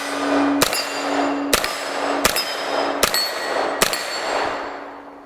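A 9mm PSA GX-9 AR-15 rifle fires five evenly spaced shots at steel targets, each sharp report followed by a ringing metallic clang that decays, close and loud outdoors.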